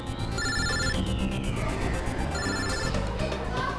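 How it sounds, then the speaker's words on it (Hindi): A phone rings in a boarding school classroom with an electronic ringtone of repeated warbling tones in two clear bursts, fairly close, over a busy background of murmuring voices. "अभिजीत का फोन।"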